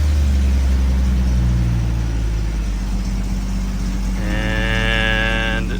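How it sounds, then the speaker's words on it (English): A running 1996 Jeep XJ engine idles with a steady low drone, then a squeaky belt cuts in midway with a loud, sustained, tonal squeal that holds for over a second above the engine. "just a squeaky belt"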